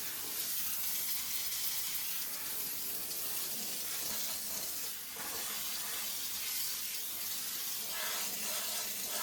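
A steam cleaner hisses steadily and fairly loudly on the underside of a toilet lid. The airy sound has a small dip midway and no talking.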